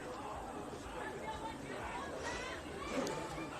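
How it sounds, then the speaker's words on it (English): Low, distant murmur of a crowd chatting in the stands at a women's football match between Bentleigh Greens and Heidelberg United, a steady soft babble with no single voice standing out. "Good crowd rolling in here."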